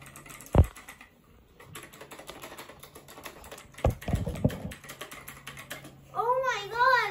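Keys clatter on a newly unboxed computer keyboard with a braided cable, in quick light bursts separated by pauses, including a couple of sharper knocks, in a quiet room.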